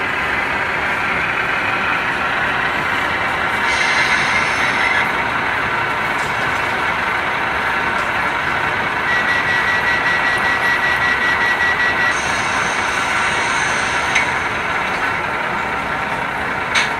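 Class 153 diesel train 153 324 at Foxburrrow Junction railway station, a steady droning engine hum held loud and constant for the whole stretch, with faint high whines and no talk.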